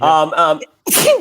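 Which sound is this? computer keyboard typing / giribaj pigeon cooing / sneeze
sneeze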